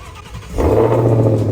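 A Ford Mustang GT500 engine turns over and catches, a short close whir followed by a deep steady idle rumble.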